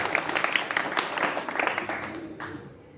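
Audience clapping at a Hindi poetry recital, a dense burst of applause that stays steady for a few seconds and then thins and fades toward the end.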